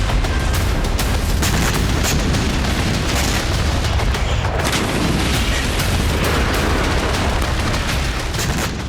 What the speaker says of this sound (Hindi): इजरायली सेना सीरिया में भी जबरदस्त विस्फोट कर रही है